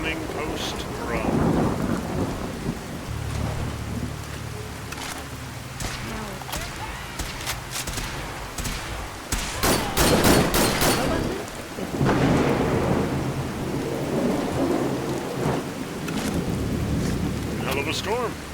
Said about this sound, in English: Hell of a storm.